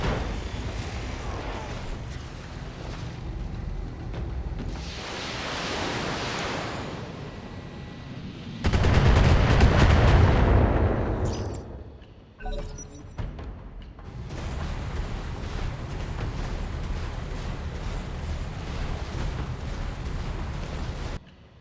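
Mech weapons fire in the BattleTech tactical game, with a long run of loud, roaring blasts and rumbling impacts. The barrage swells to a heavy burst midway, drops briefly, then rolls on steadily.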